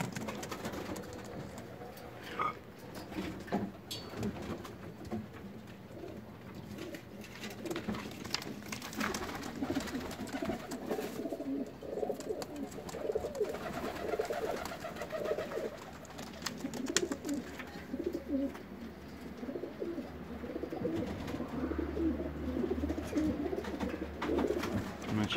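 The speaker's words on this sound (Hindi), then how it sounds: "इंशाल्लाह आपको पसंद आएंगे ये सभी बेबी पिजन" Young Pakistani high flyer pigeons coo steadily in a loft in Saudi Arabia, a soft continuous murmur of overlapping bird calls close by with no speech.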